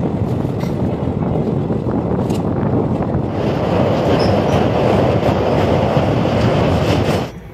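A train rolls along rails on a Sikkim trip, a loud continuous rumble with rattling and a few sharp clicks, close by and steady until it drops away at the end, with no talk.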